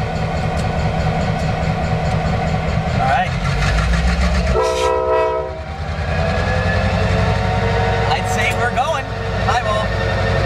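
A Sierra Northern work train rolls past at Warnerville, California, a loud continuous rumble and clatter of railcars close by, with a brief horn-like tonal blast in the middle and a faint voice at times.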